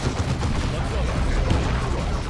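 Gunfire exchange between squads in Warhammer 40,000: Dawn of War II, a dense, steady crackle of rapid shots and overlapping bursts, loud and unbroken for a couple of seconds.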